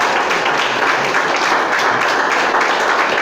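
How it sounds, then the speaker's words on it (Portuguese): A church congregation breaks into loud, continuous applause during a sermon, a thick wash of many hands clapping together without pause. "Pode aplaudir e glorificar"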